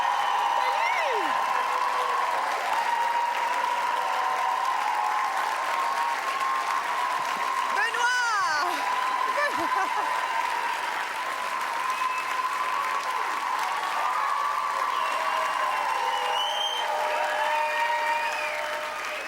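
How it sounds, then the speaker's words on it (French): Sustained studio audience applause from a Quebec reality-show crowd, dense and steady clapping throughout with a few whoops and cheers rising above it, loud and continuous with no pause. "je pense que les derniers applaudissements étaient pour toi"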